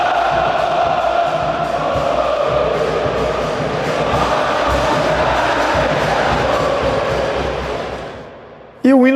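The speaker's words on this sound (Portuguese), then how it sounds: "quando a torcida começa a cantar, cria uma atmosfera gigante" A large Fluminense football crowd sings its anthem in the stadium, a dense, sustained roar of massed voices that holds steady for several seconds. It then fades, and a sudden brief noise ends the stretch.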